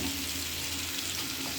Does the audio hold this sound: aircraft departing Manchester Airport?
no